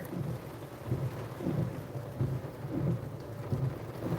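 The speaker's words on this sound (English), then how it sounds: "And the rain is coming down pretty" Steady rain falls during Hurricane Beryl in Palacios, Texas, a dense continuous hiss with low rumbling gusts rising and falling throughout, no voices.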